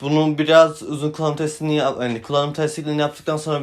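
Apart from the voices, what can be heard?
No everyday noises stand out.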